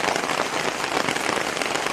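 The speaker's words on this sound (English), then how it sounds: "this is a tent and it's going to sound a little more than it is, but it's raining out there." Heavy rain drums steadily on a tent at a campground on a humid August evening, a dense, loud and continuous patter with no talking.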